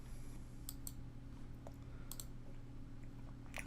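Sparse mouse clicks against a steady low hum, a few sharp ticks spaced irregularly at moderate volume, no voices present.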